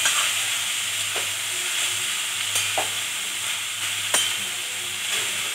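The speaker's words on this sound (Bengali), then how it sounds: "এবার আগে একটু নাড়াচাড়া করে নিতে হবে" Small potatoes and papaya pieces sizzle steadily in hot oil in a pan while a spatula stirs them, giving a constant frying hiss broken by several sharp scraping clicks.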